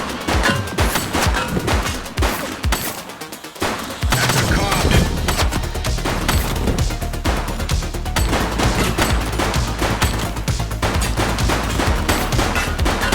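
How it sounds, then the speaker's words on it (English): Gunfire bursts loud and dense throughout a police shootout in the video game The Precinct, rapid overlapping shots like automatic fire, with a brief lull partway before the barrage resumes. "He's shooting!"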